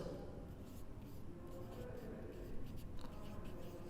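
Faint, close writing strokes during a fifth-grade mathematics lesson on factors, heard as a soft, continuous scratchy rustle with slight bursts as the writing goes on.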